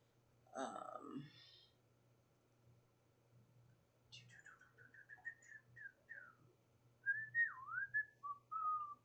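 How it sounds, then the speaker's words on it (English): A person whistles a loose, wandering tune while crocheting, the notes coming in short bursts and slides, close and fairly quiet after a brief rustle at the start. "Sorry about the whistling."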